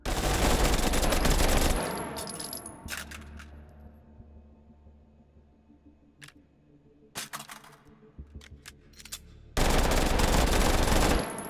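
Rapid automatic fire from a pair of G18 pistols in the Hot Dogs, Horseshoes & Hand Grenades VR shooting game, loud sustained bursts at the start and end, with scattered single shots and short clattering volleys between.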